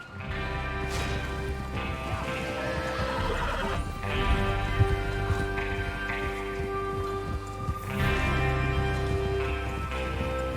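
Horses whinny and snort while hooves clop steadily, layered over a busy outdoor cowboy video game soundscape with low rumbling music; one loud neigh stands out near the middle.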